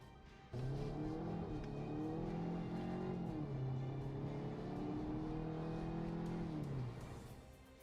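A Volkswagen GTI hatchback with a 228-horsepower engine revs up sharply and holds a steady rising and falling engine note for several seconds before easing off; loud and close, no talking.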